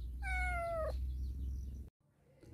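A single clear cat meow rises and falls close by, followed by quiet room tone and a brief cutoff.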